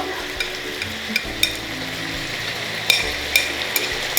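Carrots and onions stir-fry in a pan, a steady low sizzle broken by scattered clinks and scrapes from stirring, fairly close and without talk.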